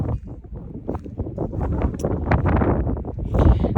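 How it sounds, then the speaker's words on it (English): Wind buffets the microphone in a vegetable garden in rough, rumbling gusts that rise and fall continuously, loud and close, with no voices. "I'm sorry about the wind"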